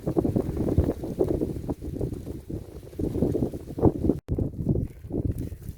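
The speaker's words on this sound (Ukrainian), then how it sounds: "дуже вітряно" Wind buffets the microphone outdoors in a garden in a steady, heavy rumble with gusty surges, loud and close, with no other sounds standing out.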